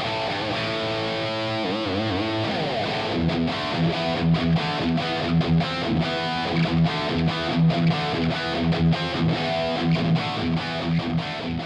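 Electric guitar through a Wizard Leopard drive pedal at high gain: sustained distorted notes give way to tight, chugging palm-muted metal riffs with rhythmic stops, loud and dry, with no voices.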